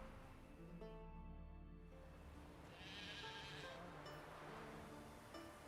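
Sheep bleating in the video game The Witcher 3: The Wild Hunt, one clear drawn-out bleat near the start, then a few fainter bleats over quiet background ambience.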